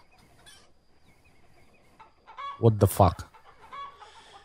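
Chickens in the Farmer's Life farming video game cluck in a short loud burst of several calls midway through, with quiet ambience around it and a brief exclaimed voice just before.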